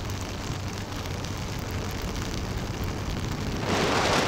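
Heavy monsoon rain during a motorcycle ride on the NH66 highway from Mumbai to Mahad, a dense unbroken roaring hiss mixed with rushing wind that swells louder near the end.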